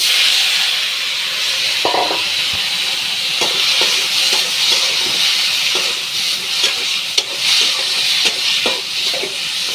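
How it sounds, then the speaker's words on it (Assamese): Tomatoes frying with jaggery in a hot pan give a steady loud sizzle and hiss, broken by repeated scraping knocks as a utensil stirs and turns them. "এনেকৈ ওলট পালট কৰি ভাজিম মই।"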